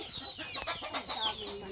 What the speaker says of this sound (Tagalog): Daming manok.